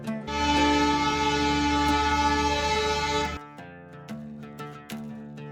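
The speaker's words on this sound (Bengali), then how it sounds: "আবার ট্রেন হুইসেল দিয়ে চলা শুরু করলো।" A loud, sustained train horn blares for about three seconds, then stops, followed by rhythmic clanks and low rumbling as a Bangladeshi passenger train starts moving out of a station.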